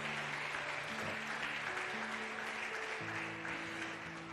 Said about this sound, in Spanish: Yo le daría un aplauso mejor, más bueno al Señor, iglesia.